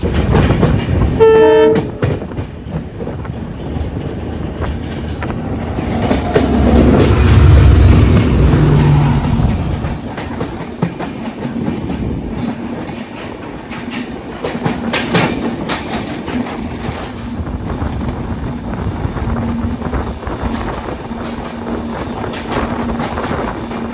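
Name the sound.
train passing with horn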